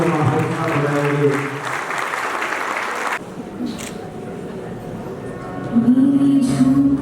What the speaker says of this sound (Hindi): जोरदार तालियों से बच्चों का हौसला बढ़ाएंगे